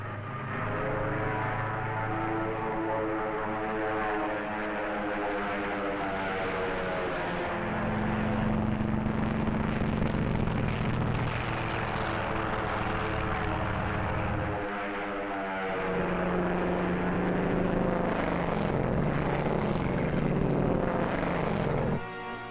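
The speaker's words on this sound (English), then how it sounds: "the drone aircraft are launched and temporarily guided from the carrier" Propeller-driven drone aircraft launched from a carrier during the Operation Crossroads atomic tests, a loud, steady engine drone with a harmonic whine that shifts pitch as the aircraft pass, continuous with no talking.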